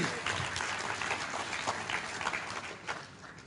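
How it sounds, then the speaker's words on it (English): Applause from an audience at a regional conference celebration, a dense sustained clapping that fades slightly toward the end, with a voice faintly under it. "Oh, wow, that was a big applause."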